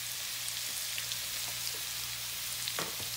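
A paste of ginger, garlic, green chili and dry coconut with turmeric frying in a pan, giving a steady, soft sizzle with a few faint stirring clicks.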